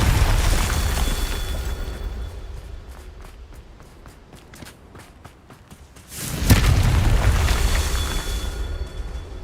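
Confringo blasting-spell explosions in Hogwarts Legacy gameplay, with a booming burst at the start, a quieter stretch of sharp pops and footsteps, then another loud explosive blast with a rumbling tail.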